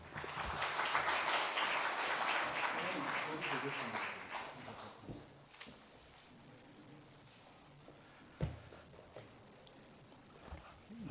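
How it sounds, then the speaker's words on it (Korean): A church congregation applauding to welcome the pastor, with a broad wash of clapping for the first few seconds that fades out, followed by quieter room sound, a couple of knocks, and some voices. "목사님 나오실 때 큰 박수로 환영해 주시기 바랍니다."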